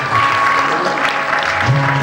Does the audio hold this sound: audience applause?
yes